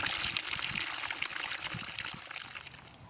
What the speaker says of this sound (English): Now fill the bucket up with water